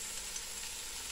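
Onions sautéing with a pinch of salt in a pan, a steady soft sizzle and hiss running evenly throughout with no talk.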